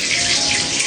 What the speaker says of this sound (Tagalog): Bubuksan po natin yung ating shower